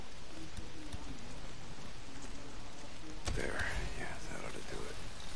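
Steady in-game rainfall in the video game Days Gone, a constant broadband hiss running the whole time, with a sharp crack midway and faint voices underneath.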